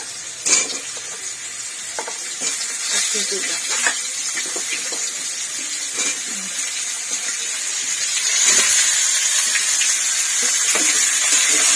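Potato, carrot and papaya frying in a pan for a rohu fish curry, a continuous sizzle with frequent stirring scrapes and clatter, growing a little louder toward the end, with no voices.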